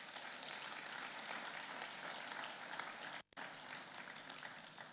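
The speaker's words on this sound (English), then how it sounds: "I think he deserves a round of applause." A crowd at a conference gives sustained, even applause, a dense wash of clapping with a brief dropout near the end.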